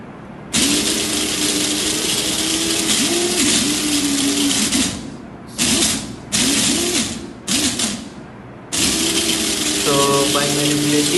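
A small robotic cart motor whirs loudly in bursts, starting and stopping several times with short gaps, its pitch wavering as it drives, near and alone.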